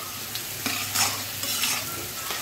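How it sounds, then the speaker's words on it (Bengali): Hilsa fish head pieces sauté in a hot pan, a continuous sizzle broken by several scraping stirs of a spatula, close and fairly loud, with no talk. "আর এখানে হলো যে আমি ইলিশ মাছের যে মাথা দিয়ে রান্না করব, এটা কষিয়ে নিচ্ছি।"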